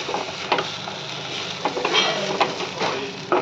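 Banana flower curry (mochar ghonto) stirred in a pan, a close, continuous scraping rustle with a soft sizzle underneath and a few sharper spoon knocks against the metal.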